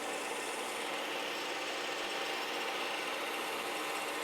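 A 15-amp, 4,000 RPM wet tile saw cuts through porcelain tile with a steady, loud, bright grinding whine that holds unbroken from start to finish, with no talking.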